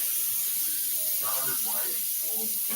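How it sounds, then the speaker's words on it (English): Water runs steadily from a kitchen sink faucet to rinse a colander of grease, a constant hiss with faint clinks and speech-like murmurs underneath. "You're going to hear me turn the water on."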